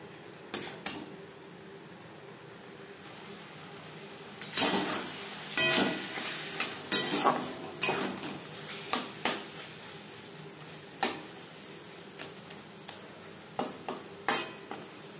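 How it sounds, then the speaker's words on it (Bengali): Chicken is mixed and fried with spice masala in a pan over a fairly high flame, with sharp clanks and scrapes of a spoon against metal coming in irregular bursts over a low, quiet background. "মশলার সাথে চিকেন বেশ ভালো করে মিক্স করে দেবো।"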